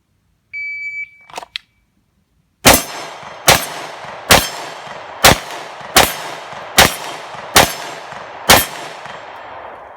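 A steel-framed Star BM 9mm pistol fires Gold Dot +P rounds: eight sharp, loud gunshots at a steady rhythm about a second apart, each ringing out briefly. They are preceded by a short electronic beep and a clatter.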